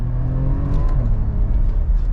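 A Porsche accelerates hard from 5,000 RPM in a short, loud, rising engine roar heard from inside the car, with no talk.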